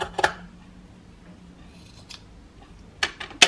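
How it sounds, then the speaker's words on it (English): Close snips of scissors cutting up the middle of a sock for a no-sew Christmas gonk decoration, with one crisp cut at the start and two more near the end, set apart by quiet. "So for his feet, I am just going to cut up the middle of the sock."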